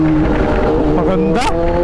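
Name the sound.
Kawasaki Zh2 motorcycle clutchless downshift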